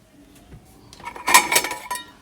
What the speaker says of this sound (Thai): ปิดฝานะคะ